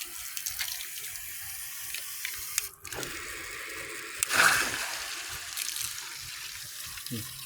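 Water rushes steadily from a household water softener plant running on fast rinse during a manual wash, a continuous close flow with a brief surge partway through.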